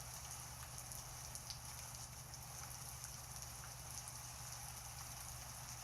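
Steady, even rain falling close by, a constant wash of hiss and patter with a low hum underneath, continuous throughout with no voices.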